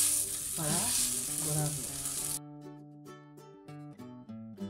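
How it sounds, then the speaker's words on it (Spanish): Washed rice browning in hot oil in a pot, a soft steady sizzle with stirring, under background music that later carries on alone. "Lo ponemos en la cacerola para dorarlo."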